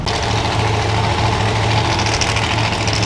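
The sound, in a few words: Dodge Charger Daytona drag car engine running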